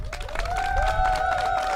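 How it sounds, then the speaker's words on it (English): An audience at an outdoor World AIDS Day gathering held by Bermuda's Ministry of Health claps steadily throughout, with a faint sustained tone ringing beneath the dense applause. "Give your government a hand clap"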